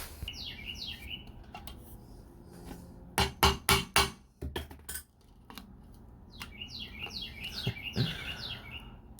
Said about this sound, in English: let's knock these crusty bearings out